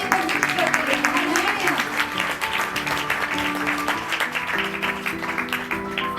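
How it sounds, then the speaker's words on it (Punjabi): A church congregation claps together, a dense, continuous wash of applause that goes on for several seconds, with a voice and sustained musical tones running beneath it. "Give best clap to God."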